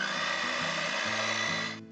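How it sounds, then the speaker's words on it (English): A kitchen blender whirs steadily as it mixes tamale dough, a loud continuous motor drone with shifting pitch, cutting off abruptly at the end. "I'm going to use the blender to mix it better."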